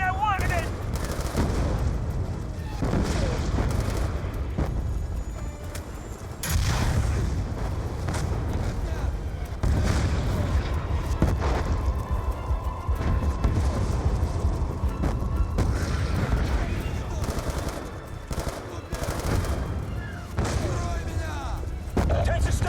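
Tanks and gunfire in the video game Black Ops 2: a sustained battle din of rumbling engines, scattered gunshots and distant booms, with occasional louder blasts and voices shouting over the chaos.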